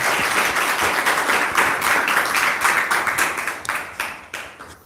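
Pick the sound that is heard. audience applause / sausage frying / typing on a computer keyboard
audience applause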